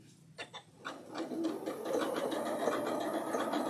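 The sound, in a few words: sewing machine stitching decorative stitch on wool applique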